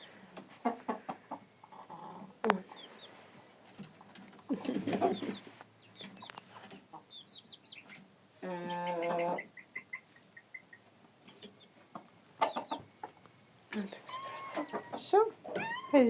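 Mixed-breed hens and a purebred rooster in a farmyard give scattered clucks and short calls, close by and intermittent, with a voice talking among them and a few sharper bursts breaking through.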